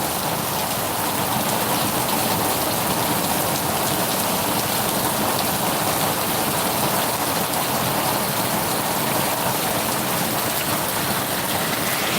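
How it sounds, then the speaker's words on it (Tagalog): Heavy rain with large drops pours down steadily, a dense unbroken hiss with no voices. "Tapos talaga ng patak ng ulan."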